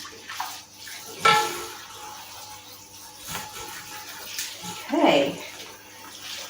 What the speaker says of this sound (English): So we'll just give that a rinse.